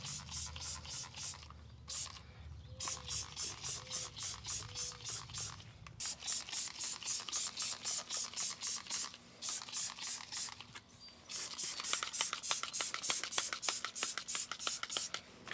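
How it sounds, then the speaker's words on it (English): Salty Captain foaming cleaner sprays in repeated short bursts onto fabric truck seat covers, a steady pumping hiss close to the mic with a brief pause midway. "So we'll see as I spray all that on."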